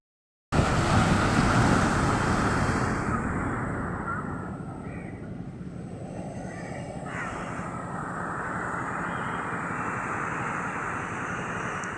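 Ocean surf rolls in at a beach in Chennai, a broad continuous roar of waves, loud at first and then easing slightly, with no clear speech.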